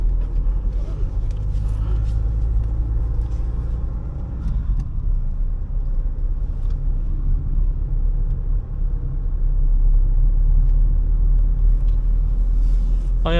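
Inside a moving 2009 Hyundai i30 diesel hatchback with a 90 hp engine, a loud, steady low road and engine rumble fills the cabin, with a brief faint tone at the very end.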